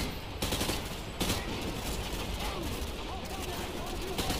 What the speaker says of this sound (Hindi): लेट लेट के गोलियां चला रहा है